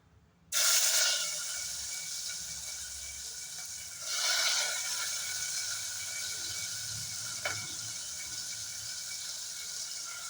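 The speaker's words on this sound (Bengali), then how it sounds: "এখন এখানে তেলের মধ্যে দিয়ে দেব পেঁয়াজ আর টমেটোটা।" Onion and tomato drop into hot oil in a pan while cooking dal, a sudden loud sizzle that holds as a steady hiss, swelling again briefly midway with a small pop later.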